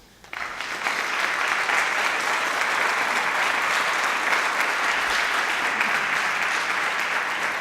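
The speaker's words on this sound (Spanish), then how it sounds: "el aplauso ayuda con las manos frías" An audience at a wine tourism technical session applauds, the clapping starting abruptly after a brief quiet moment and then holding as a loud, even wash of many hands.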